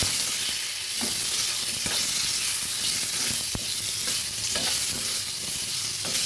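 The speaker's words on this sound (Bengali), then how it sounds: "দিয়ে দিচ্ছি সামান্য নুন, একটুখানি হলুদ গুঁড়ো। ভালোভাবে নেড়ে চেড়ে ভেজে নেব।" Potatoes frying with salt and turmeric in a pan, a steady close sizzle throughout with a few sharp scrapes and knocks as they are stirred, no voices.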